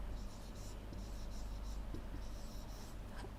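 Chalk or pen scratching out letters on a classroom board during a science lesson, a steady run of short scraping strokes, quiet and close, with a faint low hum underneath.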